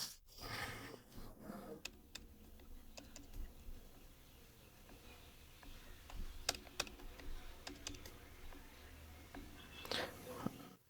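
Fingers typing personal details on a computer keyboard, producing scattered light clicks in short bursts against a quiet room background, with faint rustling between keystrokes.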